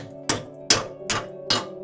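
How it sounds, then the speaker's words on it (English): Four sharp metallic hammer blows flatten metal flaps in a Ferrari engine bay, landing at a steady, unhurried pace, each a loud clang ringing briefly over a low background hum. "then hammering the flaps down"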